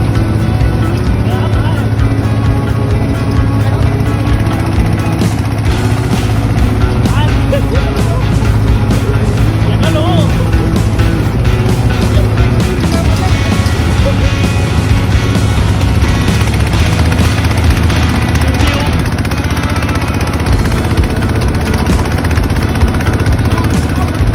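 A 3-ton tracked dump truck grinds up a steep slope in an orchard, its engine a loud, steady drone mixed with track rumble, while someone talks over it.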